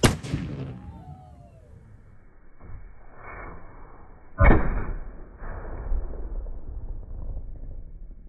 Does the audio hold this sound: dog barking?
no